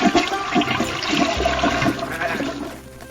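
A toilet flushes close by, a loud rushing swirl of water that churns steadily and then begins to drain away, with no voices present.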